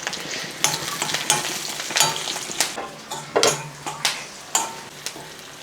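Shallots, dried red chillies and curry leaves fry in hot oil while a spoon stirs them, giving a steady close sizzle broken by scraping strokes and clinks against the pan.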